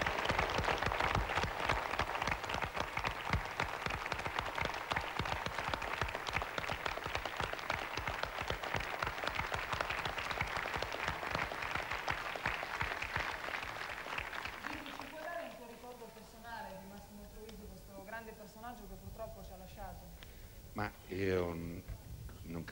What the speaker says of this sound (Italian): con il più grande applauso di questa trasmissione